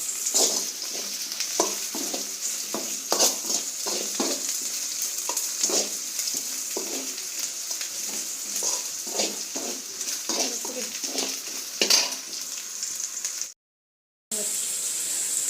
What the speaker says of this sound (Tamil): கேரட்லாம் கொட்டியாச்சு இஞ்சி இஞ்சி பூண்டு பேஸ்ட்டும் போட்டாச்சு கிளறாங்க